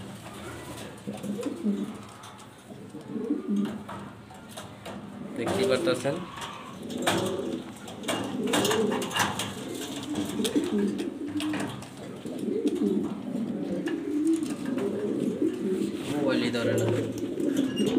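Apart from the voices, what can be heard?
Maltese female pigeon cooing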